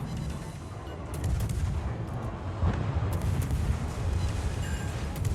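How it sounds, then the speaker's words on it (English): Warship main guns shelling in the naval combat game World of Warships, a steady low rumbling barrage of booming shots with a sharper blast near the middle, dense and continuous throughout. "And just start shelling, because we have cover by the gearing smoke."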